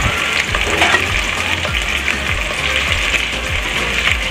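Chicken tinola with ginger and fried chicken is stirred in a hot pot, giving a steady sizzle and frying hiss with repeated scraping strokes from the stirring.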